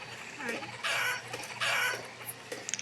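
Chickens clucking in a medieval town in the Banished building game, with bursts of busy, bright clucking and fowl chatter that rise and fall over a low steady hum, loud at moments and fading between.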